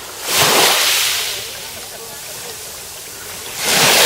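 Shallow seawater swishes and splashes nearby around a paddler's ankles on Kefalonia, surging up loudly, easing into a softer wash, then rising again.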